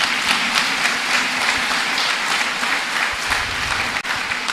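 A church congregation claps loudly and steadily for a bishop at his appreciation day, a dense crowd applause that holds without a break for several seconds.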